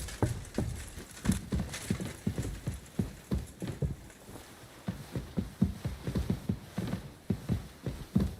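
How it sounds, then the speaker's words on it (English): Horse hooves clip-clop steadily in the video game Kingdom Come Deliverance II, a close, regular walking rhythm of many distinct hoof strikes running throughout with no talk over them. "Go and get your horse so we can get going."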